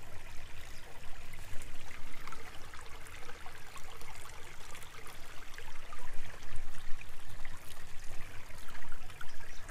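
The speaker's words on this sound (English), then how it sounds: "it starts pumping the washing water hose first, and then the secondary filter starts pumping through the drinking water hose" An Itehil 100 off-grid reverse osmosis purifier pumps water through its hose, a steady close rushing and trickling flow that continues without a break.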